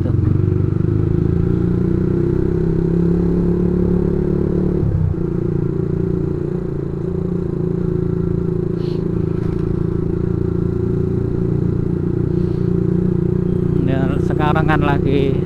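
A motorcycle with a loud aftermarket exhaust idles and rumbles nearby with a throaty exhaust drone, some clattering and scraping, and a short burst of higher noise near the end.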